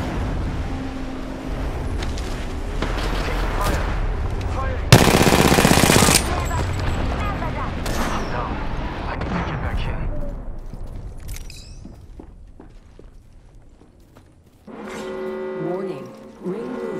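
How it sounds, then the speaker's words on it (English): Bursts of automatic gunfire aimed at the player in the shooter Apex Legends, loud rattling volleys with a sharp blast, fading to quieter shots and ending in a short burst, with a player talking throughout. "Getting shot at."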